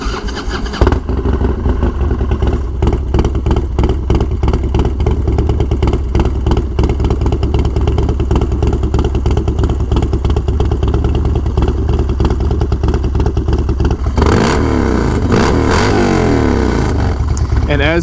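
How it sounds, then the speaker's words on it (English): A Harley-Davidson FXDLS motorcycle engine starts and settles into a loud, close, lumpy idle, steady for most of the clip before the tone shifts near the end. "And as we start the bike"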